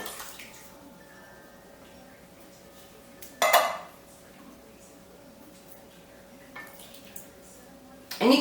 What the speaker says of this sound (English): what I am going to go ahead and add is 2 cans of petite diced tomatoes